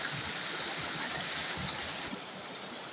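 A small, low, dry-season mountain stream in a Nepali village flows in a steady, soft, continuous trickle and gurgle, heard alone at low volume.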